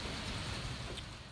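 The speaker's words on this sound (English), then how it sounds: "I'm sitting out here taking a nice little break and watching the rain." Rain falls steadily outdoors as a soft, even hiss with no break for over a second, gentle and fairly close.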